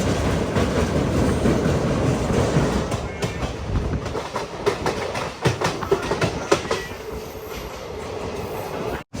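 Jan Shatabdi Express running through forest between Haridwar and Dehradun, a continuous close rumble of wheels on track with rhythmic clickety-clack beats and some wind.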